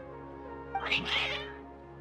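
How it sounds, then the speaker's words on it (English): Cats meow in a brief, faint yowl over a steady humming background of game music, with no one talking. "Your cats seem pretty worked up."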